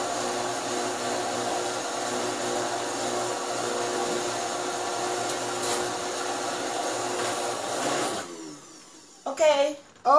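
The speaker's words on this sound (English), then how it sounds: "So I'm cleaning up my blender" A kitchen blender used for making potato pudding runs loud and steady for about eight seconds, then cuts off, followed by a few brief clattering kitchen sounds.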